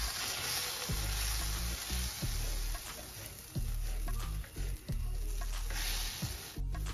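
Sausages sizzle steadily in a hot pan, a dense crackling fry with occasional clinks and stirring thumps.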